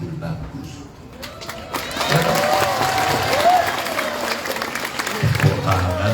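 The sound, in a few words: audience applause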